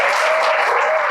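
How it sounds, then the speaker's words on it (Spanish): A church youth conference audience breaks into applause, a dense, steady clapping from a crowd that fills the short moment, with no talk over it. "Denle un aplauso a Saraí."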